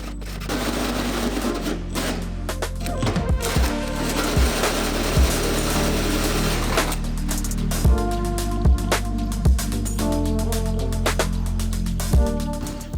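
A hole saw on a drill bores through a Toyota 60 Series body panel for a Safari snorkel, cutting fluid applied, giving a steady grinding whine broken by a series of sharp scraping catches as the teeth bite.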